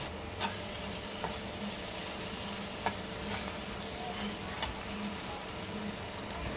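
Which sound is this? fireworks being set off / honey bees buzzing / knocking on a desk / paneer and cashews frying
paneer and cashews frying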